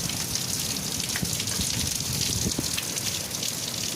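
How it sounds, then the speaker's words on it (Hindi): Steady dense roar of heavy rain with hail pouring down, scattered sharper pattering hits from hailstones mixed in, constant and fairly loud throughout with no voices. "खूब तेज़ बारिश है।"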